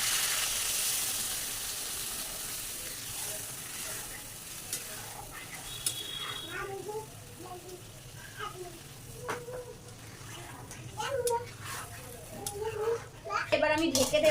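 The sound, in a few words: water added to pan of frying mango for chutney, sizzling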